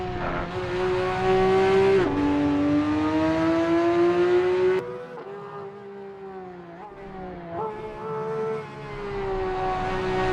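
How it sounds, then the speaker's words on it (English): A Porsche 911 992 race car engine in Assetto Corsa EVO screams at high revs at Watkins Glen, pitch climbing and dropping between gear shifts, then dipping lower briefly before revving back up. "you hear how high the engine revved there"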